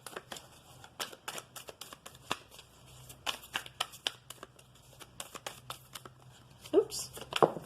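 Oracle cards are shuffled close and quiet, a run of soft, rapid riffling flutters and slaps in an irregular rhythm, with a voice speaking now and then.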